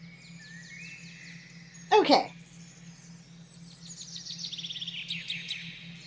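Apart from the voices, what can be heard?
birds chirping and singing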